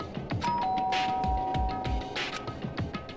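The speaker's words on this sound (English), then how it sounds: "and pressed the doorbell." Doorbell chime in the video game Danganronpa, a single electronic ding-dong with a sustained tone that rings out over quiet background music.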